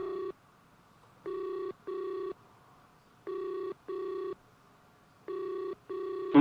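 Telephone ringback tone on an outgoing call, repeating in paired bursts with short gaps between, steady and fairly loud, no talking over it.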